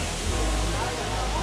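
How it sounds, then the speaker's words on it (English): Steady broadband roar of La Virgen waterfall in Baños, heard from close beneath the falling water, loud and unbroken throughout with a deep rumble underneath. "And we are just under the waterfall."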